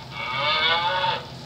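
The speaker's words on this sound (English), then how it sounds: "Let's give you a moo." A cow moo sound effect played during a Boom Beach gameplay stream: one long, loud, drawn-out moo lasting about a second, heard alone with no talking.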